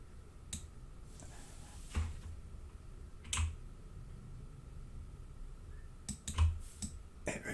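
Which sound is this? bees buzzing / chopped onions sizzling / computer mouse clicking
computer mouse clicking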